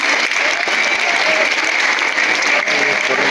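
Parents at a school annual day celebration clap together in loud, dense, continuous applause that fills the whole stretch without a break.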